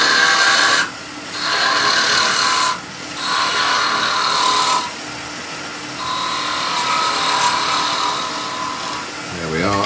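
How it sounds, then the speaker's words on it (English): A spindle gouge cuts a Christmas pyramid spindle on a wood lathe below centre, giving a gritty scraping hiss in bursts of several seconds, with brief pauses between cuts and a voice talking over it. "Now, a little bit of spindle gouge work."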